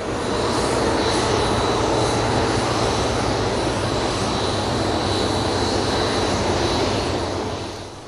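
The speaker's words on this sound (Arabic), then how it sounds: "في مطار هيثرو بلندن هبطت للتو الطائرة التي تحمل على متنها المستحضرات الصيدلانية الإشعاعية المرسلة من جوهانسبرغ" At London Heathrow airport, an airliner comes in to land with a loud, continuous engine roar and whine that swells and then fades slightly at the end, with no voices.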